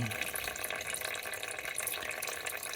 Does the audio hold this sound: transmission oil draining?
yes